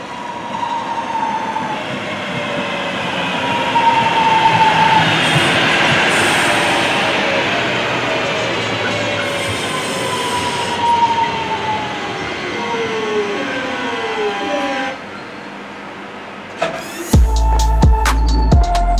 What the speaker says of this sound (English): we're going to film this 323 arriving at 12:08